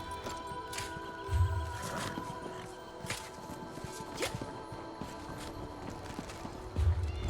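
Horse hooves clip-clopping in a video game, heard as soft repeated thuds under a busy mix of in-game sound effects and music.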